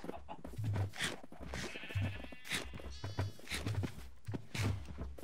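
Minecraft sheep bleat repeatedly in short, nasal baas from the blocky farm animals, moderately close, with game ambience around them.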